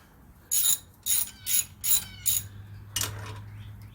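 A hand ratchet snugs exhaust manifold bolts on a 1974 Dodge D100 pickup's 225 slant six, giving five quick, close clicking bursts in an even rhythm, then a sixth after a short pause, with no talking.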